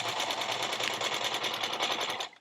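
A sewing machine runs continuously, stitching elastic onto a vinyl tablecloth; a fast, even whirring chatter up close that cuts off abruptly at the end.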